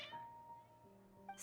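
Cats meow in the video game Genshin Impact, a couple of short, fairly faint tonal mews with a brief higher call at the end, over quiet background music.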